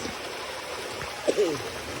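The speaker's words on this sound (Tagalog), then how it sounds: "So maraming tubig dito sa lugar namin ngayon." Steady rush of flowing water from a nearby stream, with a brief voice sound partway through.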